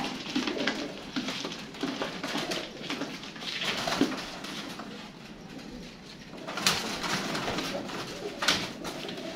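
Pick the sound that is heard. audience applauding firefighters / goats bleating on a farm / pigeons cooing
pigeons cooing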